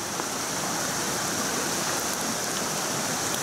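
Rain falls steadily on a tributary of the Shimanto River in a deep valley, mixed with the rush of the water. The hiss is broadband, even and continuous, with no voices.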